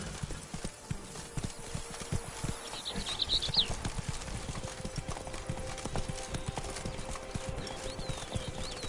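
Roach, a horse in The Witcher 3, gallops with rapid rhythmic hoof clip-clops over a low ambient game backdrop, with a brief snort or whinny partway through.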